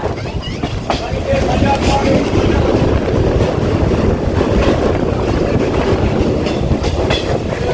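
The Howrah–Bagha Jatin Express roars past close by at Bally railway station, a loud continuous rumble and rattle of wagons with wind buffeting the microphone.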